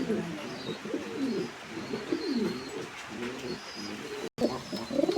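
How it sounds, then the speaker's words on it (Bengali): Breeder pairs of pigeons in a loft in West Bengal, India, cooing in repeated low, throaty phrases, fairly close, with a brief dropout near the end and faint background chatter. "পুরো ফ্রেশ পায়রা। Breeder pair."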